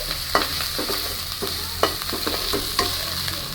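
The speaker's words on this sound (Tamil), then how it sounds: "போட்டு இதெல்லாம் நல்லா மிக்ஸ் பண்ணிக்கலாம்." Curry leaves and coriander are stirred in a frying pan with a spoon, giving repeated close scraping strokes over a steady oil sizzle. There is no talking.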